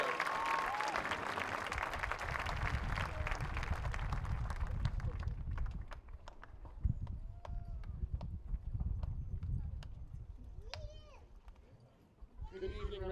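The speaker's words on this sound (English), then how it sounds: "let's have one more round of applause for our band" A crowd applauds the band at a high school graduation ceremony. The applause is broad and sustained for about six seconds, then thins into scattered claps and fades, with faint voices near the end.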